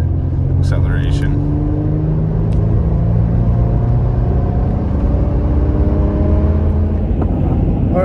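A car pulls away in second gear to about 40 km/h with a Pedal Commander throttle controller switched off, its engine a loud, steady rumble that climbs slowly in pitch, heard from inside the cabin.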